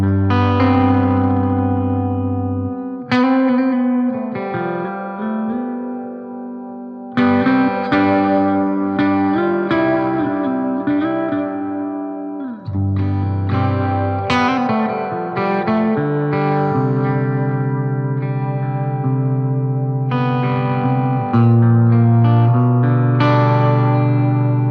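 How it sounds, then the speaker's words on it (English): Les Paul electric guitar with humbucker pickups played through a Supro '64 Reverb amp with reverb at 10, strummed chords and melodic lines ringing with heavy spring reverb and slight grit, loud and continuous with brief pauses between phrases. "And for this last tone, I've switched over to the Les Paul for a classic humbucker sound."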